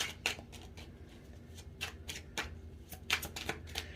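A deck of oracle cards is shuffled by hand in a string of quick, crisp riffles and soft slaps, close and fairly quiet, arriving in irregular bursts with short pauses between.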